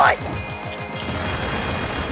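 Fast automatic weapon fire in the Roblox shooter Arsenal, a continuous chattering stream of rapid shots for about two seconds, fairly loud, with a short voice exclamation at the start.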